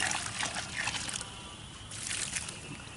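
Liquid mix pours and trickles into a hole on a porch deck framing job, a continuous splashing, gurgling flow that eases briefly midway and then resumes, fairly close and alone without talk.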